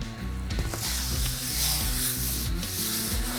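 Coarse kosher salt, black pepper and granulated garlic rubbed by hand into meat for a mobile smoker, a steady close scratchy rubbing with rhythmic strokes and no talk.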